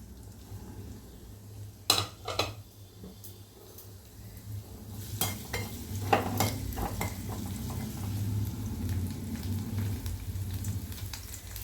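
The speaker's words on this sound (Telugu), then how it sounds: "ఇవి చక్కగా ఫ్రై అవ్వాలండి." Cumin and finely chopped onions fry in a pan for tomato rasam, giving a steady, soft sizzle. A spoon stirs and clinks against the metal, with a few sharp knocks early on.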